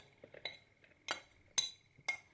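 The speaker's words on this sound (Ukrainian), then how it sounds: "Зараз перекладу в більшу мисочку і все змішаємо" Salad being tipped into a bigger bowl gives several short clinks of dishes and utensils, four or five separate light knocks spread evenly, quiet and near.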